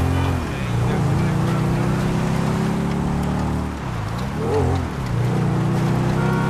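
Engine of a monowheel motorbike in GTA 5 drones steadily with a low harmonic hum, briefly dipping and rising in pitch as it revs around the middle, close and loud throughout.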